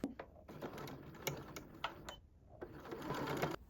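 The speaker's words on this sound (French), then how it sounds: "On va venir réaliser une couture à 1 cm du bord" A sewing machine runs a seam 1 cm from the edge of fabric for a baby's first-meal kit, stitching in bursts with brief pauses, close and fairly quiet with no talking.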